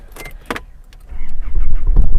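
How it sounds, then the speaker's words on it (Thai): Keys jingle briefly, then an Isuzu D-Max X-Series pickup truck engine cranks and catches, settling into a loud, low rumbling idle close by. "สตาร์ทเครื่องแล้วค่ะ"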